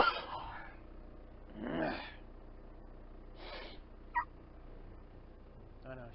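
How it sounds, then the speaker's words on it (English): Someone sneezes inside a truck cab, several short explosive bursts of breath and snorting spread over a few seconds, close and fairly loud, with a faint hum behind. "she hates it when I sneeze"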